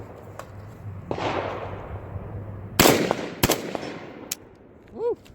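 A Marcolmar CETME L rifle fires rapid shots at steel targets 100 away on an outdoor range, with loud sharp cracks and echoing reports spread over several seconds, followed by a brief faint tonal squeak near the end.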